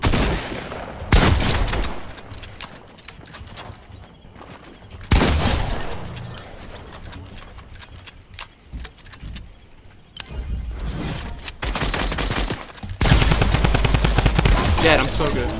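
Gunfire in Fortnite comes in loud bursts of rapid shots, several separate volleys with quieter gaps between them and a sustained barrage near the end.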